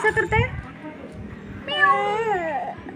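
A young voice gives a long, wavering meow in imitation of a cat, following a brief bit of speech.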